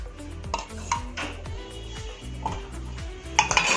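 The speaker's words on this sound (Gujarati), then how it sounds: "હવે આ મસાલાને આમાં બરાબર મિક્સ કરી દેવાના છે." Spice masala with salt and oil being stirred into a pot for fried gravy brinjal, a spoon scraping and clinking against the metal in a steady rhythm of repeated strokes, close and fairly loud with no talking.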